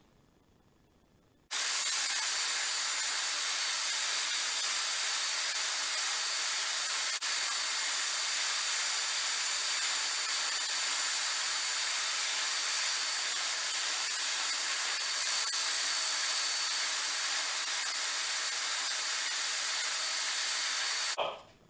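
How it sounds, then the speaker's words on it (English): A Ridgid belt sander runs on curved wood cutouts, starting abruptly after a quiet moment into a loud, steady whirring hiss that holds for about twenty seconds, then cuts off at the end. No voices. "I'm going to go use my rigid belt sander and take care of these curves."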